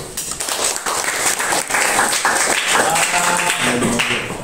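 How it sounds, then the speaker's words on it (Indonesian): An audience claps steadily after a university group presentation on human rights, a close, continuous patter of many hands with a few voices murmuring underneath. "Aplaus dulu"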